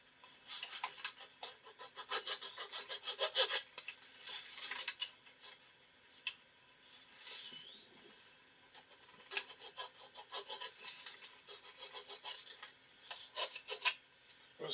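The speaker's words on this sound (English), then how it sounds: "Okay, there's a burr. I gotta stop and file it." A hand file rasps a burr off a metal part on a vintage 1977 Snapper Comet mower, heard as faint, close scraping strokes in uneven bursts with short pauses between them.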